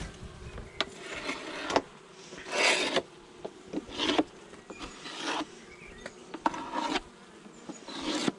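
A honeybee colony buzzes steadily during an early-spring hive inspection in March, with intermittent scraping and rubbing bursts from frames being handled up close.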